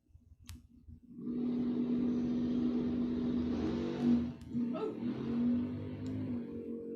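A drag racing car, the Buffco wagon, launches hard down the strip at Mid America Dragway, its engine roaring up loud and sustained after a brief idle, with a shift-like dip midway before pulling on.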